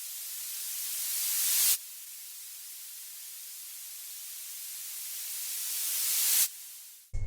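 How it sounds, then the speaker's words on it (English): A static noise sound effect: a harsh white-noise hiss swells and cuts off abruptly, then returns and builds again before stopping. "He could also hear a static type of sound which sounded similar to this."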